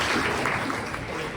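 Audience applause at a Teachers' Day school event: a brief, dense wash of clapping at steady moderate loudness, with no talking over it.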